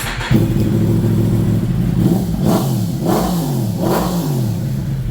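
A loud 2022 Yamaha MT-10 SP sport motorcycle engine starts up and revs several times on a dyno, the pitch rising and falling with each throttle blip over a steady idle rumble.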